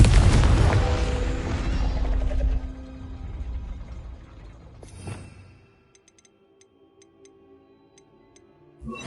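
A Confringo spell explosion in Hogwarts Legacy: a loud, close fiery blast with a booming low rumble that fades over a couple of seconds, followed by a smaller burst and quiet ticking afterward.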